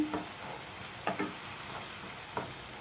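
Chili powder gets stirred into potato kurma in a pan, soft frying hiss throughout with a few brief spoon scrapes, fairly quiet and close.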